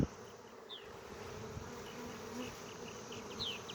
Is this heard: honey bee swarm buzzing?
yes